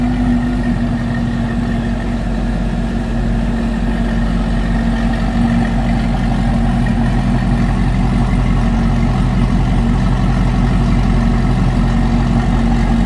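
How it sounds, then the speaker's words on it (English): A supercharged 2020 Chevrolet Corvette coupe idles steadily from the rear, its exhaust rumbling in a constant low drone with a faint supercharger whistle held throughout, with no voices. "you're going to be able to hear the exhaust and a little bit of that whistle."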